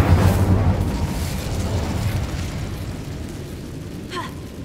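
In a fantasy video game, an Incendio fire spell is cast as a loud whooshing burst of flame that flares up at once, then rumbles and fades over several seconds, with a small high chime near the end.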